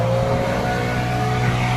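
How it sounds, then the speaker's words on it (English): Gas-powered blower clearing debris around the fuel tanks and beams at a gas station, a steady loud droning engine hum with a strong low tone, continuous and close throughout. "So we're blowing."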